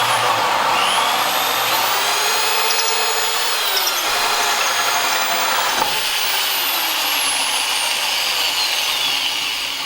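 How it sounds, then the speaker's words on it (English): Power drill boring through a wooden front door for a lockset, a loud continuous whine that shifts pitch as the bit bites and eases, running steadily throughout with no talk. "I'm going to drill from this side now, that way there's no tear out"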